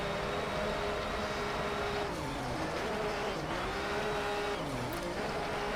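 A race car engine in a Need for Speed game drones continuously with pitch dips and rises as it shifts and drifts through corners, under a constant layer of noise and faint talk.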